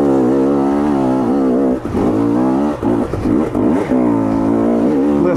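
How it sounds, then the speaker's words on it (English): KTM 250 XC two-stroke enduro dirt bike engine chugging at low revs on a forest trail, a steady loud close throb with brief dips and stutters midway, no talking. "Listen to the bike chug."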